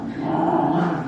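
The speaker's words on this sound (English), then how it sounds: "those dogs get in there and growl at each other" Two dogs growl at each other indoors in a short, low, rumbling snarl, close and steady for about a second.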